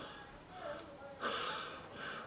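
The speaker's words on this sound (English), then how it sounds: "you're gasping for air" A person ill with COVID-19 struggles for breath, making several close, wheezy, snorting gasps in uneven bursts, the loudest near the middle.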